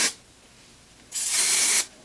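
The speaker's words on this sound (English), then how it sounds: "Hairspray it." Hairspray is sprayed onto hair in one steady hiss lasting under a second, close and fairly loud, after a brief earlier puff, with no talking over it.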